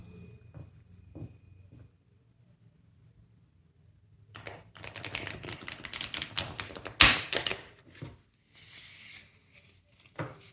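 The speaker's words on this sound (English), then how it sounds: "I'm just going to shuffle the deck in order to get some reverse cards" A deck of tarot cards being shuffled: a quiet pause, then a burst of rapid riffling and papery flicks, with one sharp snap near the middle and a few soft taps toward the end.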